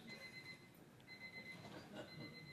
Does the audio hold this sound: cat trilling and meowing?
no